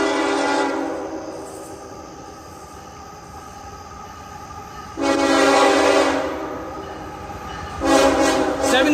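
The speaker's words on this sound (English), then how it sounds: "We've got another train coming." A K5HL horn on a passing train sounds two loud chord blasts, the first longer and the second shorter, separated by quieter rumble of rail cars rolling by close at hand.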